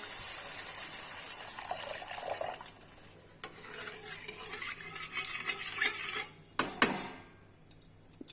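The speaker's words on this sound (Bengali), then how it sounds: "এবার পরিমাণ মতো জল দিয়ে দিব" Water is poured into a pan of fried spice paste for a rohu fish curry, giving a hissing, gushing sizzle that swells and fades, with occasional clinks of a utensil against the pan.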